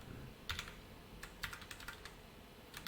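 Fingers type code on a computer keyboard in quick, irregular bursts of soft clicks, close and quiet, with short pauses between runs of keystrokes.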